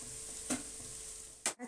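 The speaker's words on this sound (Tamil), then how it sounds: "தக்காளி இதை நல்லா வதக்கிக்கலாங்க" Tomatoes sautéing in a pan for a tomato biryani base, a soft steady sizzle with a couple of short bursts of stirring scrapes, close and with no talking.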